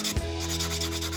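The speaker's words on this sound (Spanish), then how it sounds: "con una fresa vamos a buscar el ancho exacto" A rotary bur grinding a slot to width in a metal jewelry tube clasp, a steady close whir with a rubbing, abrasive edge that holds evenly throughout after a brief initial contact.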